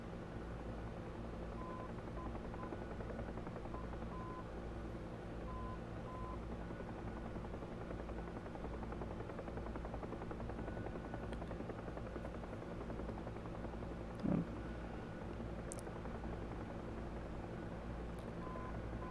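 Steady droning rotor and engine hum of a helicopter in the DCS World flight simulator over Syria, constant and unbroken throughout, with faint intermittent beeps and a brief click partway through.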